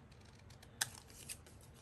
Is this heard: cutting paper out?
yes